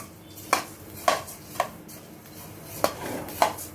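Coriander seeds dry roasting in a pan for a traditional Tamil spice powder, with five sharp, evenly spaced scraping knocks of a spatula against the pan over a low, steady background, no voices.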